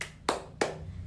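Children in a classroom clap twice during the Tepuk siu clapping chant, two sharp, close claps about a third of a second apart over a quiet room.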